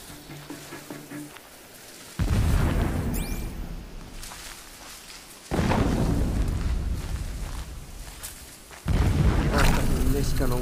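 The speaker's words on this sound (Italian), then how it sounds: "Un'altra esplosione." Three heavy explosions in Horizon Zero Dawn, each a sudden deep boom that rumbles for a few seconds, spaced evenly apart over a quieter low hum of background game sound.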